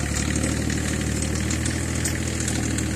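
A tractor engine runs at a steady, loud drone as it pushes through snow and slush, continuous and close by, with no talk.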